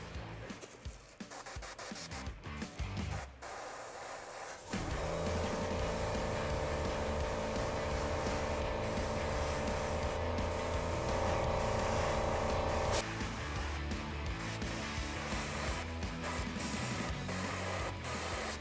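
An airbrush sprays thinned, diluted paint onto a mask in a steady, close hiss lasting several seconds, with shorter bursts and handling noises before and after and no talking.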